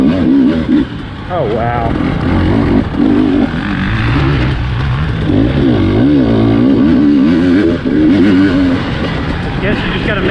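A 2020 KTM 300 XC-W TPI two-stroke dirt bike climbs a hill in third gear at Crow Canyon, its engine loud and close as it revs and bogs with the throttle. The rider exclaims briefly.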